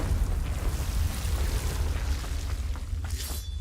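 Confringo fire blast spell in Hogwarts Legacy, a dense roaring burst that stays loud and steady throughout, with a rumbling low boom under crackling hiss and no voices.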